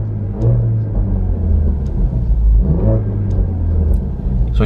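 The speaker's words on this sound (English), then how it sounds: "So we just have our cool burbles" A Ford Focus RS exhaust burbles and rumbles up close, with sharp little pops and crackles scattered over the low throbbing engine note.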